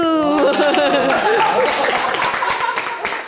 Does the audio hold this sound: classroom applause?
yes